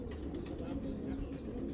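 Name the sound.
Girbaz pigeon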